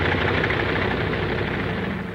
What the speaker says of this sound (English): The sound of the engines warming up starts before dawn, echoing back from the mountains that flank the field.